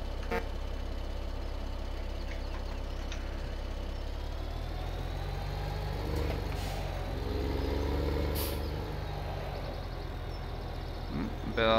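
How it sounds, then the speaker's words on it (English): Tractor engine in the video game Farming Simulator 17, a steady low drone running throughout with brief horn-like tones and clicks layered on top. "I think this will be a good tractor to have on the farm."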